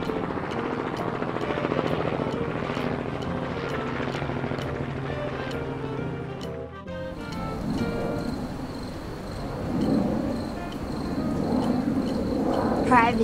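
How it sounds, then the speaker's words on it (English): A multi-purpose helicopter flies with a steady broadband rotor and engine roar, continuous and moderately loud throughout, with a short dip midway before the drone resumes, under background music. "Multi-purpose helicopter."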